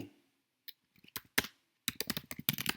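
Typing on a computer keyboard in Canva: sparse single keystrokes at first, then a quick burst of rapid, close clicking taps, with no talking.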